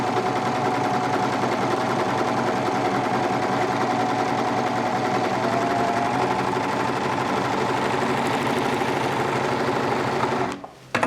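A Bernette B48 overlock serger runs continuously, stitching at a steady, rapid mechanical whir for about ten seconds before stopping abruptly.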